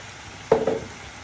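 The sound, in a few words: chilli con carne being stirred and cooked in pan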